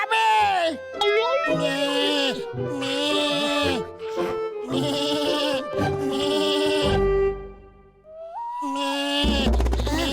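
Cartoon character voice imitating a goat, repeated wavering bleats in a strained nasal tone, one after another with short gaps, loud and close, in a comic scene with a tiger and a cage.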